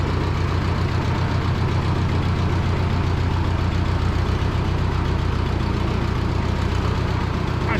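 A Super 44 tractor that had been sitting unused idles steadily, its engine a loud, close, continuous low rumble with an even mechanical knock and no voices.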